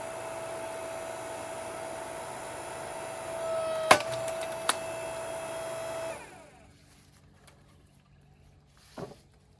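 Powersmart PS-90 6-ton electric log splitter running, a steady motor hum with a couple of sharp knocks and a brief tonal whine, then the motor stops, leaving quiet and one more faint thump.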